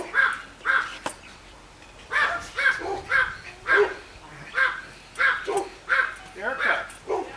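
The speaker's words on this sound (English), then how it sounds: "Erica, your dogs are barking" Several dogs bark in repeated short bursts at an estate sale, loud and fairly close, each round of barks separated by brief pauses.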